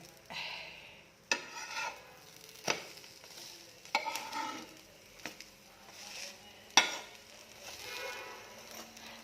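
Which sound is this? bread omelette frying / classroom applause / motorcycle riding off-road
bread omelette frying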